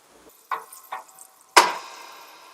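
Onions sizzle in a pan while being cooked for chicken biryani, with a few soft stirring knocks and then a sharp clatter as something hits the pan, followed by a fading hiss.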